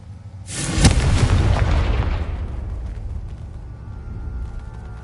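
A Confringo spell explosion in the Hogwarts Legacy video game: one loud, close, booming blast with a sharp onset that rumbles and fades slowly over several seconds, with no speech.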